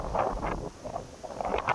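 Wind blows through a tree beside rice fields, a soft fluttering rustle that swells and dips in short gusts, heard from a distance with no talk.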